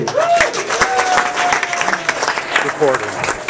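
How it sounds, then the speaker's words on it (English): Audience applause at a ski team end-of-season party, a steady wash of clapping with cheering voices and a whistle running through it, fairly close and loud throughout. "give a big round of applause to Dick Horan"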